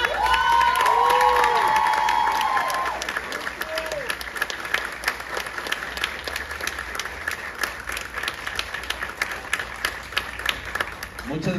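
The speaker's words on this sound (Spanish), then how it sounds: "Recibamos con un fuerte aplauso al director de esta hermosa agrupación, a Soforti, orgullosamente ticos, a Josué." Festival audience at a Costa Rican folk festival closing applauds and cheers the director of a folk ensemble, a dense crowd roar with whoops at first, then steady sustained clapping that carries on alone for several seconds.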